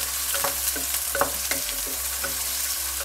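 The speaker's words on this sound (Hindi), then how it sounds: "अब इसमें हम डाल देंगे कटे हुए प्याज। हल्का सा इन्हें हमने फ्राई करना है" Chopped onions fry in oil over medium flame, a soft even sizzle with quiet periodic scrapes of a stirring spoon, low hum beneath.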